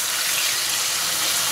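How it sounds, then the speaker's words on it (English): Water is poured into a pan of browned chicken as it cooks, making a steady, loud rushing hiss that is close and continuous throughout, with no voices. "it's just time to add the water"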